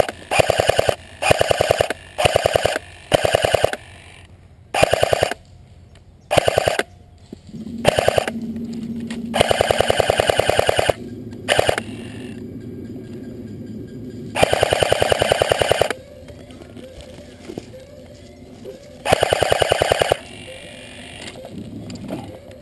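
An M249 SAW Mk.II light machine gun fires a string of short, loud bursts up close at an airsoft-style ISA Rush event, separated by brief pauses, with a steady mechanical hum continuing underneath between bursts.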